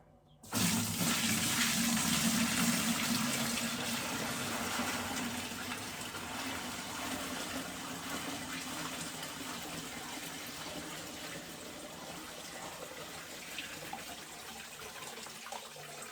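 Yellow dye water made from birch leaves pours through a strainer in a steady, close gushing stream that starts abruptly, then eases slightly and keeps flowing for the whole stretch.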